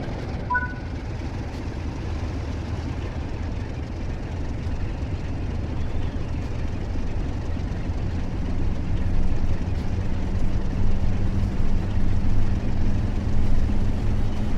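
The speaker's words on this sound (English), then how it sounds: "Increase the throttle to start moving." A train in Train Sim World 5 on the Blackpool Branches pulls away from a standstill, its low engine drone and rumble building steadily louder over the whole stretch, continuous and close with no talk.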